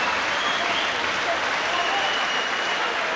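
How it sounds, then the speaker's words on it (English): A crowd at a British professional boxing match applauds after a hard round, a loud, dense wash of clapping that stays constant throughout, while commentators' voices run over it. "What a round of applause."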